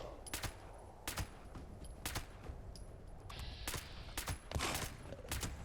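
Repeated gunshots from a weapon in the Fallout 76 video game, a series of sharp loud reports spaced irregularly about a second apart over a low background hum.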